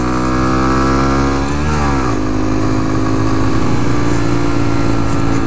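A 2014 Honda Grom's small single-cylinder engine drones loudly while riding, shifting pitch at a gear change, with steady close-up wind rush over the exhaust note.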